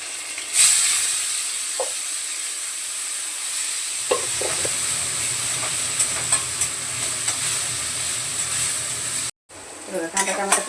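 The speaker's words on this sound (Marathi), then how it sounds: "अर्धी कोथिंबीर तेलामध्ये छान बारीक होते आता दोन्ही पण एकत्र बारीक केले पटकन परतून घेते" Fresh coriander sautés in hot oil in a home kitchen, a continuous close sizzle with scraping stirs and a short cut before the frying resumes.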